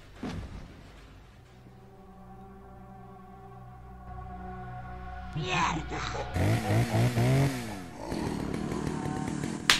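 A chainsaw in the video game Resident Evil 4 idles with a low droning hum, then revs up loudly into harsh, fluctuating buzzing bursts.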